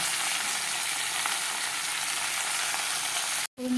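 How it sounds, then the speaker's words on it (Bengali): Cabbage and potato fry in a pan with a loud, steady sizzle, broken by a brief pause near the end. "এই যে সুন্দর করে ভাজা ভাজা হয়ে গেলে তারপর আমি মশলাটা দিব"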